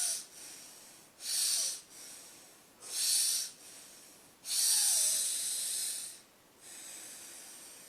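Slow, rhythmic breathing exercise: four or five deep, hissing breaths spaced a second or two apart, close and airy, with quiet pauses between and no talking.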